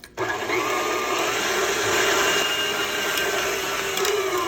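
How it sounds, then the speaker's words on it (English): Electric mixer beating butter and sugar for sugar cookies on high speed, a steady loud whirring motor hum that starts abruptly and runs continuously without pause. "I'll resume mixing on the high speed"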